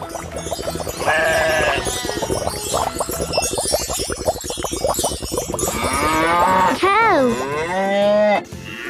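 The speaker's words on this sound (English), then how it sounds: "Cow." A cow lowing in an old cartoon, a long, loud, drawn-out moo with a gravelly pulsing texture that rises into a higher bellow near the end, close and alone.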